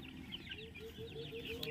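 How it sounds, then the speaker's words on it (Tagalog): Chicks and chickens cluck and peep softly at close range while being moved into a new coop, a busy, uneven chatter of short calls over low background noise. "Sugar nga dat mga manok ha."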